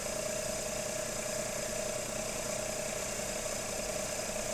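A synchronous motor runs with no load, giving a steady, faint mechanical hum with a constant whine, even and unbroken throughout.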